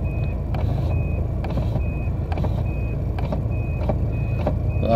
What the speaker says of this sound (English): That beep beep's just the battery off it, you see.